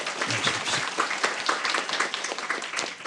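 An audience at a forum in Jeju applauds a guest speaker being welcomed to the stage, a steady wash of many hands clapping at moderate distance without pause.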